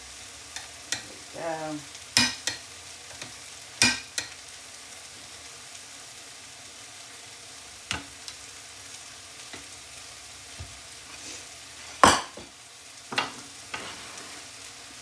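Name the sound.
stirring frying peppers, onions and tomatoes in pan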